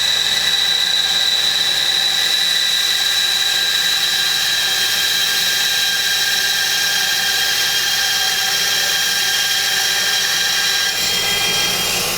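A saw blade cuts steadily through a fluorescent epoxy egg blank, producing a continuous loud whine with a high buzzing edge that holds evenly for several seconds, with no talking.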